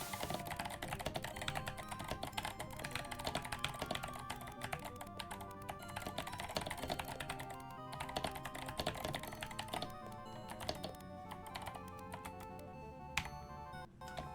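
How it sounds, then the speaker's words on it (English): Rapid, loud clacking on a noisy computer keyboard, steady dense keystrokes with a few sharper hits, close and alone with no talk. "And you can only do typing while with a loud keyboard."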